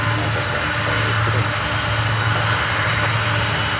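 A Martinair Cargo Boeing 747 roars with a steady, broadband jet engine rumble and whine, loud and continuous throughout, with no voices.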